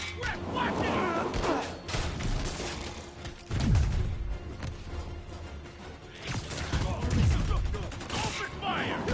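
Enemy gunfire in a Spider-Man video game, bursts of rapid shots and mechanical clatter running through the scene with game voices talking over parts of it.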